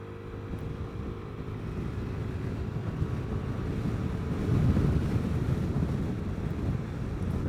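Steady headwind roars across the microphone while riding a Vespa GTS 300 Super Sport scooter, a dense low rumble that swells louder partway through, with no one talking.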